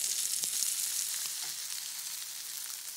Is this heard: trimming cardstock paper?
no